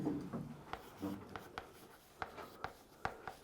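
Writing on a board during a chemistry lesson: chalk or marker strokes tapping and scratching in quick irregular bursts, close and fairly faint, with a voice briefly heard.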